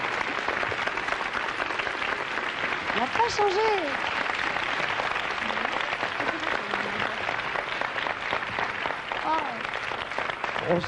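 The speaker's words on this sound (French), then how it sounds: "En tout cas, on peut vous applaudir." A TV studio audience applauds steadily throughout on a French evening variety show broadcast in November 1988, with a host's voice talking briefly over the clapping at a couple of points.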